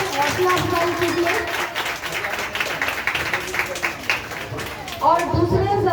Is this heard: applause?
yes